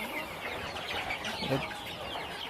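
Chickens cluck softly in a farm pen among laying boxes, with a low continuous barnyard murmur and a slightly louder cluck midway, moderately distant.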